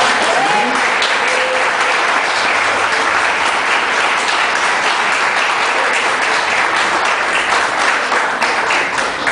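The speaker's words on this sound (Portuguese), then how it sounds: "Se você acredita, aplauda ao Senhor." A church congregation at an evangelical Friday service applauds loudly and continuously, a dense wash of clapping that holds steady throughout.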